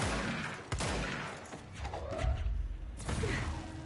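Sharp gunshots ring out in Control as a light is shot out, a few loud cracks spaced across the moment with mechanical clatter and whooshes between them.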